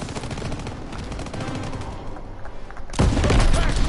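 Rattling gunfire in a Call of Duty WW2 Nazi zombies video game, a busy mix of shots with a loud close burst or blast near the end over a steady background din.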